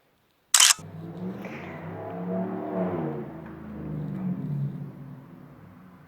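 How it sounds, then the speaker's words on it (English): Street traffic passes outside a window, a sharp click at the start followed by the low droning rumble of a vehicle that swells and fades, fairly faint with no voices. "Hopefully you guys can't hear the traffic outside my window"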